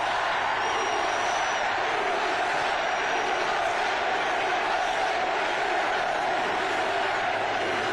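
A large outdoor political rally crowd in Montana roars and cheers continuously, a dense, steady wash of many voices at high volume with no breaks.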